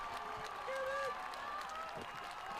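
Crowd at the Jesuit Twilight Relays track meet applauding and cheering steadily as a runner finishes a high school 3200m race, with a constant roar and voices mixed in.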